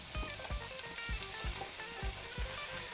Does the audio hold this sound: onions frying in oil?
yes